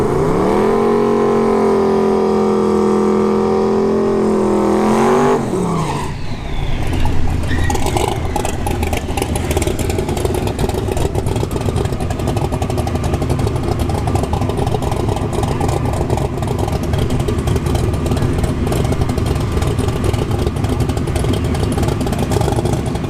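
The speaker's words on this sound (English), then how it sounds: "we got Andrew with the Tesla Plaid channel lining up against a twin turbo WS6 Trans Am Firebird" Tesla Plaid and a twin-turbo WS6 Trans Am Firebird index car at a dragstrip test-and-tune: a loud, steady engine drone that climbs in pitch, then a sharp shift into a dense, roaring rush of racing noise.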